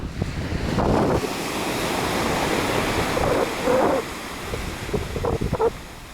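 Ocean waves surging against the Royal National Park coast under steady wind buffeting the microphone, with a continuous broad roar and a few swells breaking more sharply, loud and close.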